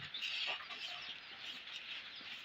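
Dense, continuous high-pitched cheeping from many chicks on a poultry farm, a busy chorus filling the whole moment without pause.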